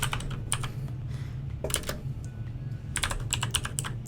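Typing on a computer keyboard, close and clear, with quick clusters of clicking keystrokes separated by short pauses over a faint low background hum.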